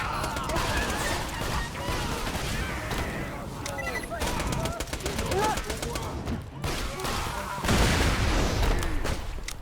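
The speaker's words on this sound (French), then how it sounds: "Explosion." Combat in the Borderlands 2 video game: dense, continuous bursts of gunfire and blasts crackle throughout, with a heavier burst of explosions near the end, all loud and mixed with voices.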